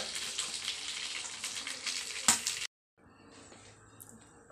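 Steady bubbling sizzle of escabeche sauce boiling in a pot on the stove, loud and continuous, briefly cutting out before resuming more quietly.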